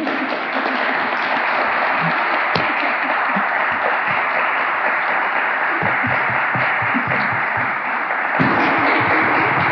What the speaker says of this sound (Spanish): si les apetece pueden aplaudir.